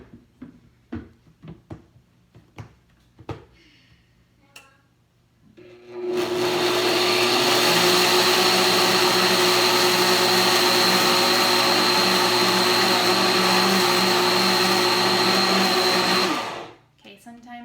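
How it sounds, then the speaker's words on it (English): A blender grinds oats into flour in a kitchen, starting abruptly after a few light clicks and knocks, then roaring loudly and steadily for about ten seconds before cutting off. "And we're gonna blend this up. We're gonna just make some oat flour."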